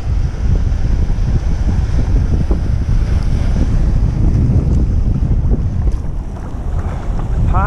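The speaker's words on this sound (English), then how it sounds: "These are the waves I gotta watch out for coming from the back." Ocean waves rolling and breaking off Hawaii Kai on a windy morning, a loud continuous wash of surf mixed with heavy wind buffeting the microphone, with no voices.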